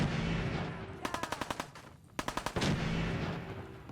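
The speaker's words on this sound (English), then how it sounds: "It's a shotgun I hear, so we're gonna be careful. That was the shotgun." Rapid automatic gunfire in the Fallout 4 video game, two quick bursts of about eight sharp shots each, separated by a short pause, over a constant background din of game noise.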